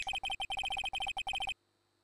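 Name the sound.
mobile phone ringing in video game Phoenix Wright Ace Attorney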